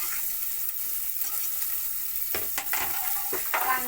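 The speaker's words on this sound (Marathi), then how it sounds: "बघा कसा चढचढ आवाज यायला लागलाय" Onion frying in hot oil for besan pithla or zunka, a steady crackling sizzle close up, with a few sharper spatula scrapes and louder bursts toward the end and no speech.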